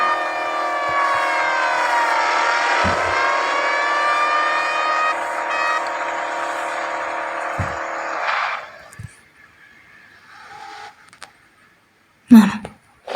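Mercedes-Benz W124 tuned to 300 hp in the Car Parking Multiplayer game. The engine revs up with a rising whine that then holds steady, cuts off after about eight seconds, and gives way to a few scattered clicks.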